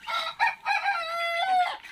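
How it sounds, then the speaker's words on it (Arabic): A rooster crows once at dawn, loud and close, in a full two-second cock-a-doodle-doo with no other sound around it. "احلى شيء اخوان الصوت التعوعي مال الديك الفجر"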